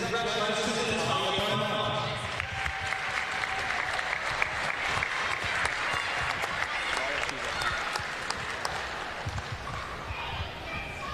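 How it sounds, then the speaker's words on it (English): Crowd applause at a women's basketball grand final as the All-Star Five are announced, loud and continuous clapping with cheering from the stands, a sustained wash of sound that carries over the venue noise. "Round of applause for our All-Star 5."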